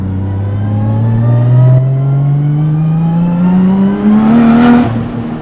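Sequential-shift 600hp 2JZ-powered Toyota JZX100 with an external wastegate, engine revving steadily upward in one long loud pull, raspy note climbing before a sharp release near the end, no talking.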